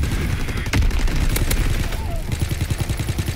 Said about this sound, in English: Everyone's shooting at everybody right now.